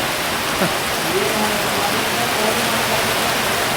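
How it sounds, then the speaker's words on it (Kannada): Heavy rain falls in a steady, dense hiss during the monsoon season, loud and uniform with no breaks. "ಮಳೆ ಹೊಂಟದ್ರೆ ಈಗ ಯಾವಾಗ ಕಮ್ಮಿ ಆಯ್ತದೆ ಅಂತ ಗೊತ್ತಿಲ್ಲ"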